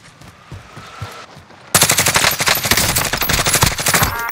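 Rapid automatic gunfire in Call of Duty Warzone striking the player, loud dense bursts of shots starting abruptly after a quieter stretch and continuing steadily to the end.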